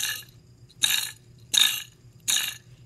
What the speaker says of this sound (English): It makes a rattle sound.